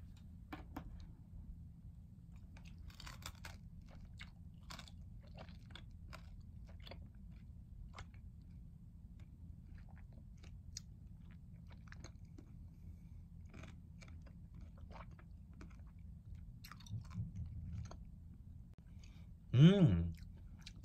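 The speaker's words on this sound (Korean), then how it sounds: "한번 바로 먹어 볼게요." Someone bites and chews tangerine tanghulu with its hard sugar shell, giving faint close crackles and clicks through the chewing, then one louder crunch near the end.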